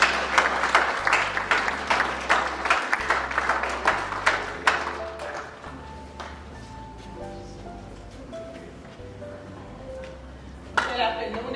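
An audience claps at an arts and wellness event on re-entry, giving about five seconds of dense, fairly loud applause. The clapping then thins out and fades, leaving background music with a voice or brief noise near the end.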